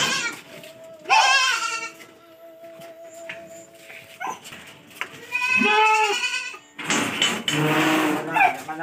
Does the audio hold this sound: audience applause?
no